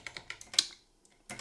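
A computer keyboard clicks out a fast, close run of keystrokes during Go programming, stops briefly, then starts typing again.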